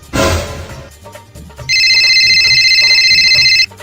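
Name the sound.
telephone ringing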